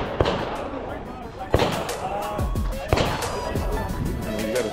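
Gunshots fired at a shooting range demo during an expo, three sharp reports over a second or so apart, heard under steady crowd noise and nearby talking.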